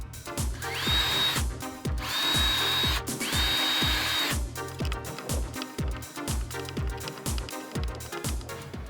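A power drill drives screws into fence gate hinges in several bursts, each rising whine revving up and cutting off, with ratcheting clicks between them, close and loud, no talking.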